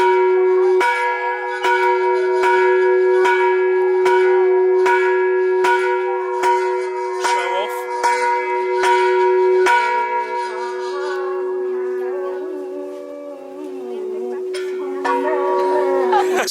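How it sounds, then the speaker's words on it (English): A heavy temple bell in Sri Lanka is struck repeatedly, each loud metallic clang ringing out with a long sustained hum, about a dozen strikes in steady succession before the tone decays and a final strike returns. "You ring the bell for how many times you've been up there."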